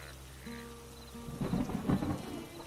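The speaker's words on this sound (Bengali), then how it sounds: "আর একটু অপেক্ষা করি, দেখি যদি বৃষ্টিটা কিছুটা কমে" Rain falling steadily with a low thunder rumble swelling near the end, moderately loud and continuous, no voices.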